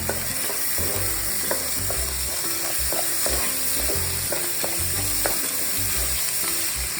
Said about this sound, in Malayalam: ഇതിലേക്ക് റൈസ് ഇട്ട് കൊടുക്കുകയാണ് നന്നായിട്ട് ഇളക്കി കൊടുക്കാം